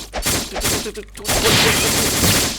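Rapid bursts of gunfire from a Roblox Blox Fruits battle, sharp overlapping shots that build into a dense, loud fusillade after a brief gap, with faint voices underneath.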